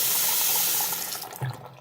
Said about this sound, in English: I'm going to go ahead and turn the water supply back on